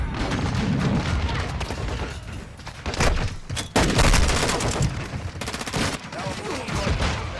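Pistol shots ring out in a shooter video game, loud and close in rapid, dense volleys with a few sharper single cracks, while a voice speaks faintly underneath.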